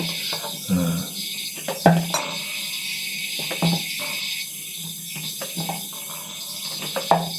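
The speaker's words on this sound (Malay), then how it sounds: "Saya masukkan air panas nanti, air yang sudah dimasak." Hot boiled water poured into a chili mix, a continuous splashing stream with clinks of a container at intervals, close and fairly loud.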